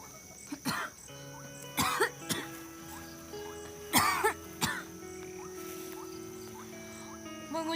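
Several harsh coughs of blood in separate bursts, close by, acted in a school traditional theatre performance, with steady tonal music playing underneath.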